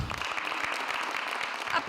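Applause at an evening political gathering of the governing coalition, a dense, steady crowd clapping that carries on through the whole stretch at even strength with no voices on top.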